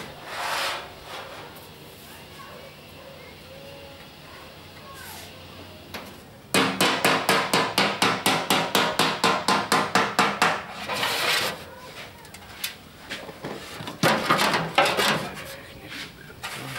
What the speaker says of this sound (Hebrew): מה, פטיש?